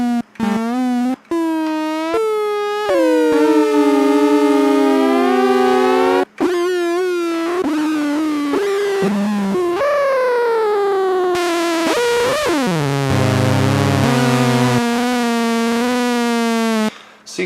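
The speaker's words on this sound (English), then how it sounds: "And we'll change the VCO to on the envelope mod, for example, and you can hear different changes that way." Roland Boutique JP-08 synthesizer played with cross modulation and envelope modulation, bright buzzy sustained tones sweeping and bending in pitch, a few abrupt cuts, and a harsh, noisy, growling section near the end.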